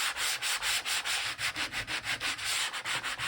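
Black paint is sanded off paper with a sanding block, producing steady rapid back-and-forth scratchy strokes, loud and close, in an even pulsing rhythm.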